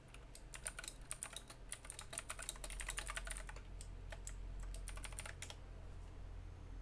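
Computer keyboard typing during a gaming stream, rapid irregular key clicks in quick bursts over a steady low hum, close to the microphone, with no one speaking.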